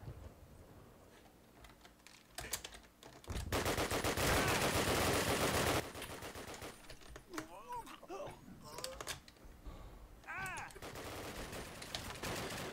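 Gunfire in a Call of Duty match, with a few sharp shots and then a dense, loud burst of shooting lasting a couple of seconds, while players talk over the game audio.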